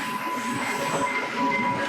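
A Sri Lankan train on the Colombo to Hikkaduwa line rolling past nearby at a rail crossing with a rumbling, rushing roar and a faint metallic wheel squeal, steady throughout.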